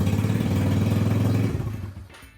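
A motorcycle engine runs close by with a rapid, even chugging pulse, then winds down and fades out over the final second.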